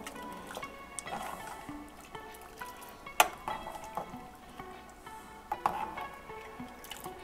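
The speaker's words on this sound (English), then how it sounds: "After adding the broth, we're gonna just mix everything up." Vegetable broth being mixed into lentil soup in a pot, with soft liquid stirring and sloshing, a few sharper spoon knocks against the pot, and quiet background music throughout.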